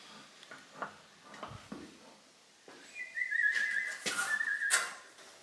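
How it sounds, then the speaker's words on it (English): A person whistles a short, wavering tune after a stretch of soft clicks and handling noise, close and fairly clear. "Got a nervous whistle"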